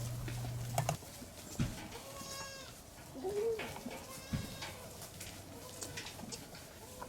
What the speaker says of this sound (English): a whole bunch of clips of small goats